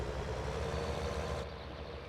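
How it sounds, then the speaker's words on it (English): A tractor engine rumbles steadily in Farming Simulator 19, a low, constant drone with no breaks, fairly quiet, dropping slightly in brightness partway through. "Wow, this tractor's loud."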